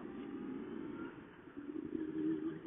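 A 2002 Yamaha FZS 1000 Fazer motorcycle rounds a roundabout, its engine a steady muffled drone that swells slightly as the throttle opens, with no voices present.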